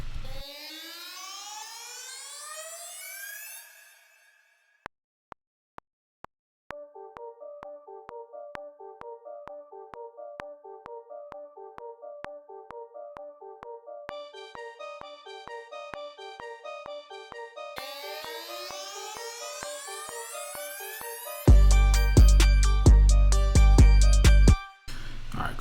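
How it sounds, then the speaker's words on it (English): A strobe riser synth effect in Logic Pro X, a digital synthesizer patch: rising sweeping tones give way to a rapid pulsing, stuttering pattern that climbs in pitch, ending in a dense burst with heavy low thumps. "now I like using this strobe riser"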